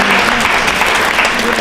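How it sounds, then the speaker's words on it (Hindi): Audience applause at a state-round election quiz show, a loud, dense burst of clapping filling the hall, brief and continuous. "तालियां बजा सकते हैं।"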